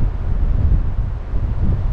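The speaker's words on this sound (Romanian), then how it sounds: "Vântul este din plin." Strong seaside wind buffets a GoPro microphone on the Côte d'Azur at Nice, a loud, constant low rumble with no voices.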